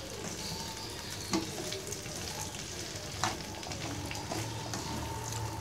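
Okra fries in a pan for dhaba-style bhindi masala while being mixed, a low steady sizzle with a couple of louder scraping stirs, close and fairly quiet.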